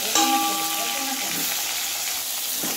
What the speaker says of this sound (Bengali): এটাকে এখন আমি লাল করে ভেজে নেব।